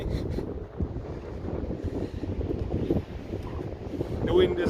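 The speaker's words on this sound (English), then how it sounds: "The wind is nice." Wind blows outdoors at Ram Falls Provincial Park, a steady, loud low rumble buffeting the microphone, with people talking over it.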